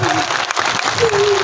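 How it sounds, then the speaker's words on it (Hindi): Applause from a crowd at a staged Islamic family drama, a steady loud clatter of many hands with a voice briefly sounding over it. "इस एक टीम पर तो ताली बनता है,"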